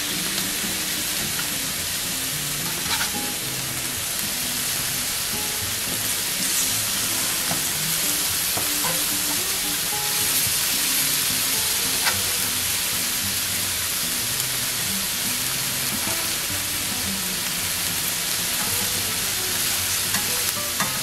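Scallops browning on a hot griddle give off a steady, dense sizzle and crackle that holds unbroken and fairly loud throughout, with faint occasional pops and no talking.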